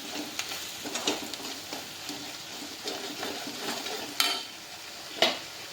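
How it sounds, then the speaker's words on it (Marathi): Chilli powder, turmeric, salt and masala being sautéed in a pan for a Konkani-style vegetable dish: a low sizzle under repeated scraping and stirring, with two sharper clanks of a spoon against metal near the end. "हे तिखट थोडंसं हळद मीठ मसाला हे आपण याच्यावरती परतून घेऊया"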